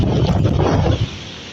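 Strong typhoon wind in Hong Kong roars and buffets the microphone in a dense, continuous rush that eases slightly near the end.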